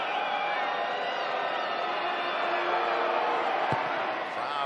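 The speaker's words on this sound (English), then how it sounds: "Crowd giving it to him." A large rugby crowd at a Major League Rugby night game jeers a kicker's conversion attempt, a loud sustained wash of booing and whistling that fills the stadium throughout, with a brief sharp thump near the end.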